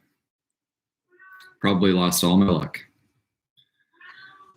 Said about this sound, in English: One of the cats is back there losing her damn mind.